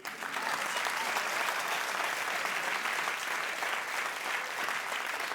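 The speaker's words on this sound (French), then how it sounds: "On l'applaudit." A theatre audience at a Bordeaux comedy show claps steadily for about five seconds, a dense even wash of applause with no voices standing out.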